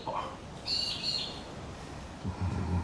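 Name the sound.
backyard birds calling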